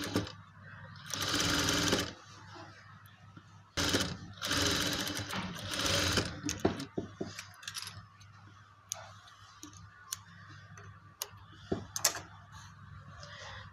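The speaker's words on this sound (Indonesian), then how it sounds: "Ini kita jahit sementara untuk supaya ini puringnya tidak bergeser lagi." A sewing machine stitches the lining of a trouser side pocket in two loud runs of rapid whirring, then gives way to quieter handling, fabric rustles and a few clicks and taps at the workbench.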